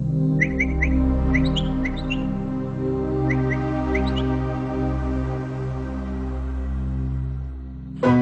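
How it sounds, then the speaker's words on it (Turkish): Birds chirp in short, high bursts over a loud low hum, the calls coming in scattered clusters. "Kuşlar çıkarttıkları son derece güçlü ve yüksek frekanslı seslerle birbirlerine çağrıda bulunurlar."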